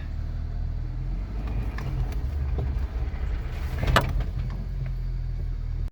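A 2004 Jeep Wrangler TJ Rubicon crawls slowly over an off-road obstacle without much throttle, a low steady engine rumble with a brief creak or clunk partway through.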